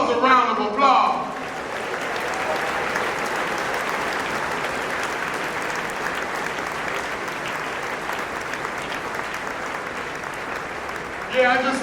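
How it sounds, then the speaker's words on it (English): Sustained applause from a large congregation at a Boston College MLK Jr. prayer service, loud and steady for about ten seconds, with brief speech at the start and end. "Give yourselves a round of applause."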